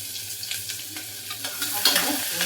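Onion frying in a pan with cinnamon, cloves and cardamom for vegetable pulao, a gentle sizzle broken by repeated scraping stirs of a spoon throughout, close and fairly quiet, no talk.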